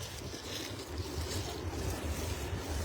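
A constant broadband roar of data center noise with a low rumble, recorded outdoors at the edge of school property in Bristow, Prince William County, mixed with gusty wind buffeting the microphone and no voices.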